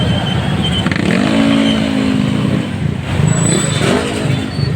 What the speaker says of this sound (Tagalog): Grabe naman traffic